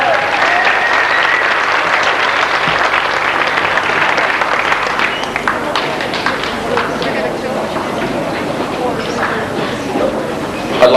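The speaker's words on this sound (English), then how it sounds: "I think they deserve another round of applause." Sustained audience applause at a Grade 7 graduation ceremony, many hands clapping densely and steadily for about eleven seconds, loud and close, with a brief swell at the very end.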